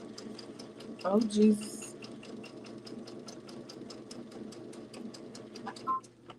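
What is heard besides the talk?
sewing machine stitching and back stitching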